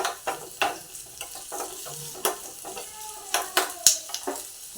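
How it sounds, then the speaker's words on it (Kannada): Onions frying in oil in a pan, a soft sizzle punctuated by sharp, irregular scrapes and clacks of the spoon against the pan, close and distinct, with no talking. "ಬರೀ ಈರುಳ್ಳಿನೇ ಹುರ್ಕೊತಾ ಇದ್ದೀನಿ ನಾನು ಸರಿ ಹುರಿಯೋದಲ್ಲ ಎಣ್ಣೆಯಲ್ಲಿ ಕರಿಬೇಕು"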